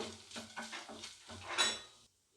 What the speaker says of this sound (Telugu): ఇప్పుడు ఇందులో మనం తురిమి పెట్టుకున్న పచ్చి కొబ్బరి కూడా వేసేసుకొని బాగా ఒకసారి ఫ్రై చేసుకోవాలి